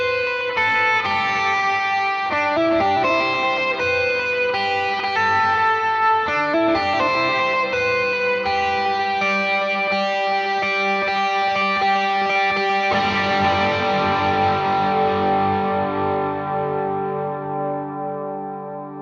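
Electric guitar running through a Line 6 Helix into Vox AC15 and Fender Deluxe Reverb amps in stereo, a distorted lead with chorus and echo delay, sustained notes and phrases ringing continuously with trailing repeats, loud and alone.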